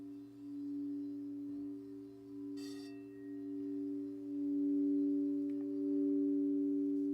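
Singing bowls ring with steady, pure sustained tones, two or more pitches layered and swelling gently in loudness, with a brief metallic strike partway through.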